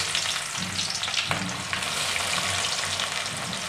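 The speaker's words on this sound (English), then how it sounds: "slice cutting onions and fried oil properly." Sliced onions fry in hot refined oil with bay leaves for a mutton curry, an even, close sizzle with a brief stir, no one speaking.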